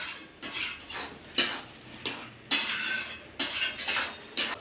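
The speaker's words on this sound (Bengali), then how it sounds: "ভালো করে একটু নেড়ে নেব।" A spoon scraping and knocking in a pan of cabbage curry with potato and tomato, about eight distinct clattering strokes at irregular intervals, close up with soft stirring between them.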